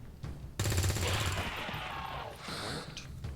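A soldier fires in the tactical video game XCOM 2, a dense rattling burst of rapid automatic gunfire lasting about two seconds, then a brief echoing tail under faint game ambience.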